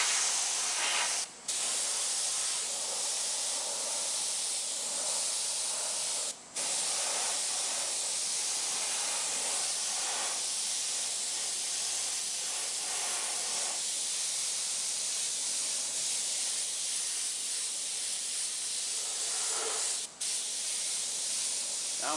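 Spray gun laying a light coat of root beer brown paint over a gun stock, held about nine inches back at 55 to 60 psi: a steady, continuous close hiss with a few brief cutoffs, no talking.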